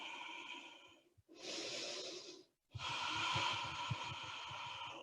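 Slow, deep breaths during Ashtanga yoga practice: a soft inhale, a pause, then a longer, fuller exhale, close and breathy, with no talk.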